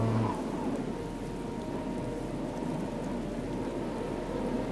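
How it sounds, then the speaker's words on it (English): Rain and storm in a video game, a continuous dense patter of rainfall with a low steady rumble underneath, uninterrupted and without speech. "I'm tired of the storm and the rain."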